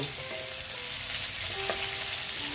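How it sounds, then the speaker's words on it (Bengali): Continuous, even sizzle of katla fish frying in hot oil until brown, a soft broadband hiss with faint crackles and no talking. "যতক্ষণ পর্যন্ত ব্রাউন কালার না হয় ততক্ষণ পর্যন্ত আমি ভেজে নিচ্ছি।"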